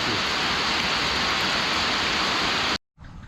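Heavy rain pours down outdoors, a dense, loud, steady rush of noise that cuts off abruptly near the end, leaving a quieter hiss.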